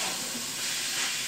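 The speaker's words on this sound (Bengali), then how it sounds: "আমার পেঁয়াজ ফুলগুলো মোটামুটি একটু ভাজা হয়ে আসছে" Onion fritters fry in a pan, giving a steady, close, soft hiss of sizzling oil that barely changes over the short stretch.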